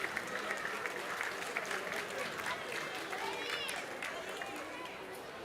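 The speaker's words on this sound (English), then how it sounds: "Viernes is up and gets a nice hand from the crowd here." A crowd at a high school varsity football game claps and cheers for a player getting back up, a broad, steady wash of applause with a commentator talking over it.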